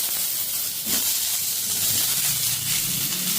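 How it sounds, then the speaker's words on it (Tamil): Steady loud sizzling and hissing of chopped chayote frying in hot oil, continuous throughout with no voices. "இதை வந்து ஆயிலில் நல்லா ஃப்ரை பண்ணணும்."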